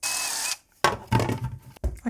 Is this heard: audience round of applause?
no